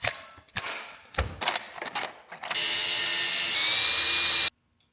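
Power drill boring into a scooter prototype part: a few clunks and handling knocks, then a steady high whine that rises in pitch, runs for about two seconds and stops abruptly.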